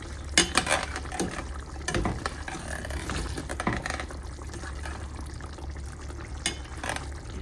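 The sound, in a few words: beef kofta cooking in sauce, being stirred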